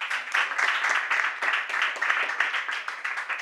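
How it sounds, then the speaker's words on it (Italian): A studio audience on a sports talk show applauds guest Nicola Polverini, youth coach of Gubbio, with dense, steady clapping that swells in waves for several seconds. "Ogni volta che dirò il nome voglio un applauso sempre più forte"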